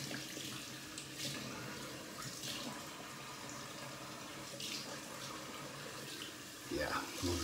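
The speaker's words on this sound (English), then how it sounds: "Okay, rinsing down here." Tap water runs steadily after a wet shave with a Damascus steel razor, a continuous close splashing hiss at a sink with a slight surge near the end.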